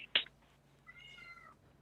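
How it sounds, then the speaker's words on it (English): A single cat meows once, fairly close and distinct, heard live during a comedy roast show, with a brief sharp noise just before it and quiet room tone around it. "I heard a cat meow"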